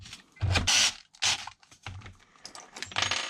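Small screw driven back into the rear of an Arrma Big Rock V3 RC truck chassis, a few close, dry clicking and creaking bursts of handling and tightening, separated by brief pauses.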